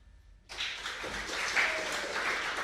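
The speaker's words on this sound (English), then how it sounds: "We just waited for a moment there for the applause." Applause from an audience after a trombone performance at a guild event, breaking out suddenly and swelling into steady, moderately loud clapping for a couple of seconds.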